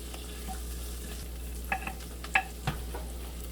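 Butter sizzling softly in a pan, a steady low frying hiss with a few brief clinks and scrapes of a utensil near the end, close and quiet.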